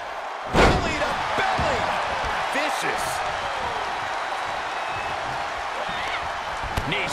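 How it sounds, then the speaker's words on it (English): A wrestler slammed hard onto the ring mat during an AWA title match, one loud heavy thud standing out near the start over a steady crowd roar and commentary. "Overhand, belly to belly. Sidewalk slam."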